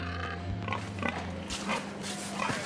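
Breeding boars in the boar pen of a large industrial piggery near Angers grunt and squeal continuously, with several animals overlapping against a constant droning background of the barn.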